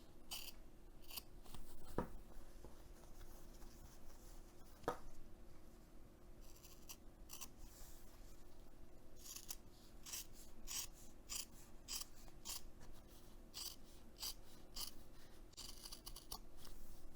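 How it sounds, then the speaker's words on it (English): Scissors snip through fabric and interfacing in close, quiet, repeated crisp cuts with soft rustling and scraping between them, and no voices. "I usually like to use my seam ripper to get an opening started and then my scissors for the rest of the way"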